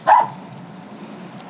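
A dog confined at a suspected illegal dog-breeding operation lets out a single short, sharp bark, close and loud, followed by quiet room ambience.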